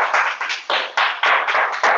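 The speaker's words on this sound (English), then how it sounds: "So with a round of applause," Applause from an audience at an annual general meeting awards session, welcoming a speaker to the stage: uneven bursts of clapping in several swells, fairly loud and close, with no voices over it.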